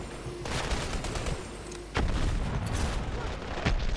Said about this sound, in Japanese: 爆発した。